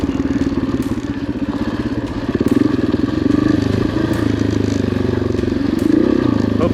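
Off-road motorcycle ridden along an OHV trail near Stonyford, its engine droning steadily and loud with rattling, clattering chassis noise throughout, and no talk over it.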